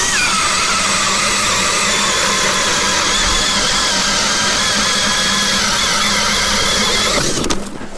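Jiffy Torch ice auger boring through about 10 inches of ice, a loud continuous engine drone with a squealing whine, cutting off near the end.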